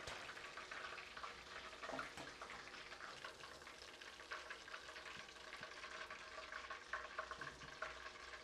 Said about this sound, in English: Carefully drop the marinated chicken into oil.